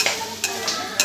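Chopped onions sizzle in a pan of hot oil while a ladle stirs and scrapes through them, with a few sharp metallic clinks standing out above the steady frying hiss.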